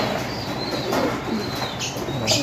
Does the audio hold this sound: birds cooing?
yes